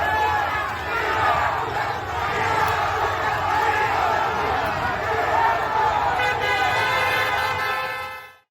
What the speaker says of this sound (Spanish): Así era recibido el presidente a su llegada a Ceuta, con gritos, abucheos, insultos